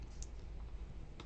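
Someone typing on a computer keyboard produces a few faint, isolated key clicks, one early and one near the end, against quiet room hiss.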